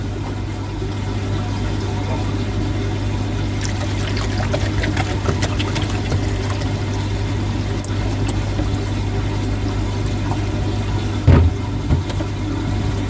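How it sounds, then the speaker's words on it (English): Water poured into a watering can makes a steady trickling splash over a constant low engine-like hum, with a short bump of louder noise near the end. "Into the watering can."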